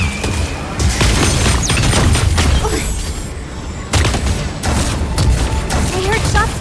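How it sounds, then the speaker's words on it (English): Dense gunfire from the video game Super Mecha Champions, with loud, rapid bursts of shots and booming impacts that continue almost without break, a short lull, and then another loud stretch. "I heard shots fired."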